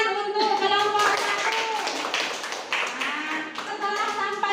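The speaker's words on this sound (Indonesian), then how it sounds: "Tepuk tangan untuk kelompok 1." Students clapping in a classroom, a dense burst of applause lasting several seconds, with a voice audible over it.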